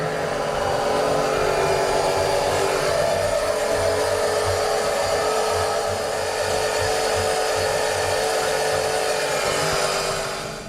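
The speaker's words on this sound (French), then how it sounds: "je vais aller faire le contorsionniste là-bas dessous, oups là, pour aller aspirer l'huile qui se trouve dans le Sail Drive" An electric pump draws oil out of a boat's Sail Drive, a loud, continuous motor whine with a broad airy hiss that holds steady for the whole stretch.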